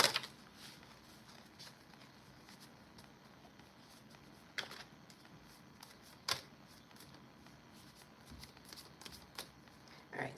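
A deck of tarot cards is shuffled during a reading, a soft steady riffle and patter of card edges with a few sharper snaps and taps scattered through, quiet and close, with no voice.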